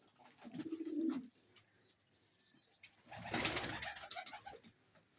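Pigeons of a golden pair coo in a low, rolling burst near the start, followed by a loud flurry of wing flapping, close by and with no talk over it.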